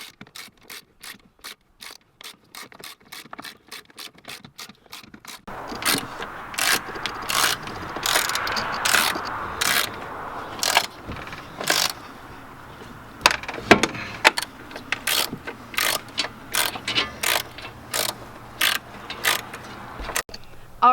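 Ratcheting tool clicks in quick bursts while bolts are tightened on the convertible top of a Mini R52, close and fairly loud, with pauses between runs and no talking.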